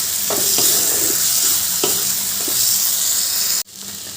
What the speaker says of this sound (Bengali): এবার মশলাটা ভালো করে কষিয়ে নিতে হবে যতক্ষণ না তেল ছাড়ছে ততক্ষণ মশলাটা কষাতে হবে